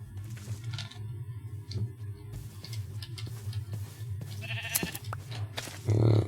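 Sheep bleating in Minecraft, a few short bleats over steady game background noise and talk, with a louder bleat near the end.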